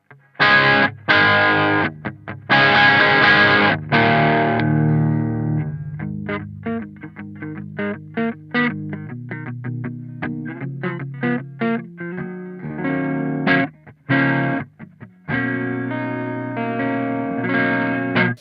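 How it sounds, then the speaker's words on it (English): Crunchy, mildly overdriven electric guitar through an amp's crunch channel, played dry with no pedals, with chopped chords and short bursts, stops and restarts, loud and close. "So the crunch channel dry just sounds a bit like this."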